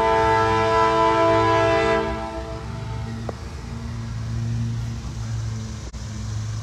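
A CSX freight train rolls past with a loud, close rumble and steady tonal drone that fades after a couple of seconds into a lower continuous rolling noise, with a brief sharp clank near the end.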